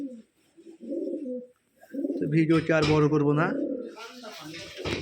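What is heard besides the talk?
flying pigeons cooing at a pigeon farm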